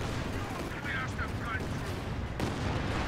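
Land Mattress rocket artillery barrage in the video game Company of Heroes 2, a continuous roar of launches and explosions mixed with gunfire, with brief whistling streaks and a sharp burst near the end.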